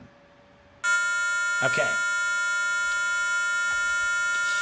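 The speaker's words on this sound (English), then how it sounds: "First of all, that the buzzer works." A small Arduino buzzer sounds a steady electronic tone during a button troubleshooting test, a constant beep running unbroken for several seconds under a brief spoken word.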